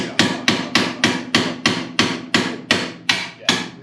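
A hammer strikes hard during work on a Mk6 car, about a dozen loud, sharp metallic blows at a steady, even pace, close by and alone with no talking.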